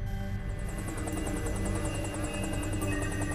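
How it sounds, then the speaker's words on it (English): Search and rescue helicopter flying over backcountry mountains, its rotor chop and turbine whine steady and loud, with a rapid regular blade beat and constant engine hum. "Today the helicopter went in with some from our team, the ground teams went in."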